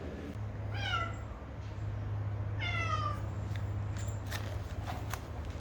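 A cat meows twice, a short call then a longer drawn-out one, close by over a low steady hum, followed by faint rustling.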